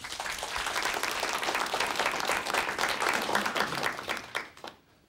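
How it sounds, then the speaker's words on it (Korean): A studio audience at a televised lecture bursts into warm, sustained clapping that stays full for several seconds, then tapers off and fades out at the end. "큰 박수로 청해 듣도록 하겠습니다."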